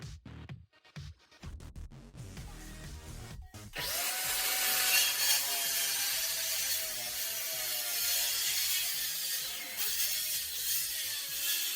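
A power saw cuts through a wooden bunk bed and desk combo inside a tiny room, starting after a few short knocks and then running steadily and loudly for several seconds.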